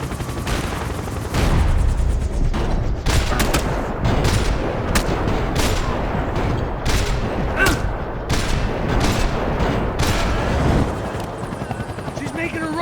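Gunfire in the video game Max Payne 3 rattles out in rapid sharp bursts over a loud helicopter rotor drone, close and dense, with voices shouting underneath.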